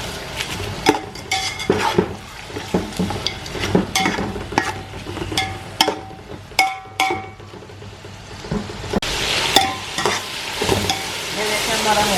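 Whole spices sizzling in hot oil in a pot for chicken pulao, with a spoon repeatedly scraping and clinking against the metal in an uneven stirring rhythm, close and fairly loud.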